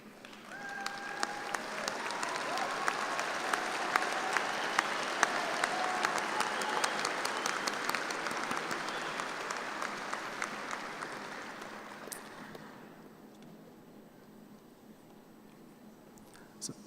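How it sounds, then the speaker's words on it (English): Graduates at a spring 2024 business administration commencement stand and applaud faculty and staff, a long, dense, steady ovation with scattered cheers that fades into a quiet room by the end. "I ask you, the students, to please stand and applaud their contributions to your success"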